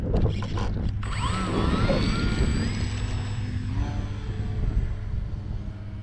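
An E-Flite T-28 RC airplane taking off in gusty wind, its electric motor whining and rising in pitch over a loud, rumbling wind buffeting near the microphone.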